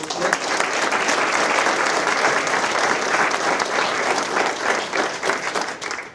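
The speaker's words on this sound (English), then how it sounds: "let's give them a round of applause" A board of education meeting audience applauds the season's players and coaches with a loud, sustained wash of clapping that holds evenly and tapers slightly at the end.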